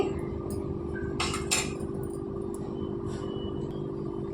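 Seasoned rasam with chilli powder, salt and coriander powder is stirred with a utensil in a pot, giving a few close metallic clinks and scrapes over a steady background hum.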